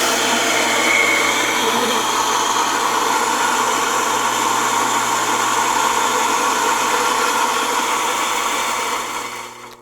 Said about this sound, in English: I'm going to turn the burrs on and then add my coffee.